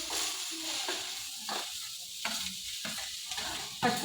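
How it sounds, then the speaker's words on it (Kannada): Grated bottle gourd roasts in a spoonful of ghee in a pan, giving a steady close sizzle broken by irregular scraping stir strokes and a few louder clatters near the end. "ತುಪ್ಪ ಹಾಕಿ ಈ ಸೋರೆಕಾಯಿನ ಹುರ್ಕೊಳ್ಳೋಣ."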